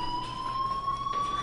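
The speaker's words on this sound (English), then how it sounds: "do you hear that fire alarm? That means you should be outside." A fire alarm in the video game Life is Strange sounds as a steady, piercing electronic tone, continuous and loud with no talking over it.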